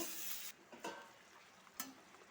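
Ground paste of coriander, cumin, ginger, garlic, onion, green chilli and garam masala frying in a pan, a steady faint sizzle broken by a few soft stirring scrapes.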